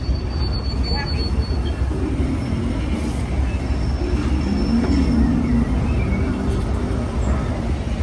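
The Big Thunder Mountain mine train ride at Disneyland runs on its rails with a continuous low rumble. Faint wheel squeals rise now and then, heard from some distance.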